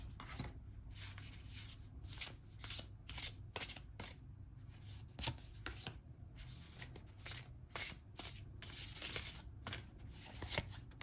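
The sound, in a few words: tarot cards being shuffled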